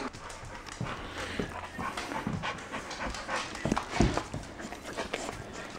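A dog pants close by in an empty restaurant: quick, breathy, rhythmic huffs, fairly quiet, with a few soft scuffs and bumps mixed in.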